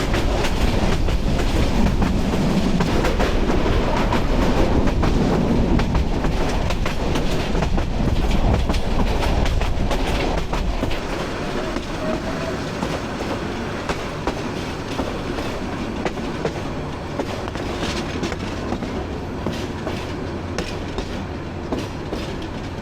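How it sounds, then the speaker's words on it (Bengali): The Kishoreganj Express, a Bangladeshi intercity train, rumbles along the rails in a loud, continuous roar with rhythmic clickety-clack of wheels, heavier in the first half, then a lighter steady rattle, with no voices. "এখন দেখা গেছে ওই যে ট্রেন দাঁড়ায় আছে রেলওয়ে স্টেশন।"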